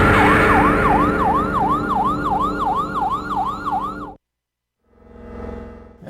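Police car sirens from the video game Illbleed wail in a steady, rapidly cycling rise and fall for about four seconds, loud and close, then cut off abruptly into silence before a brief, softer burst of other sound.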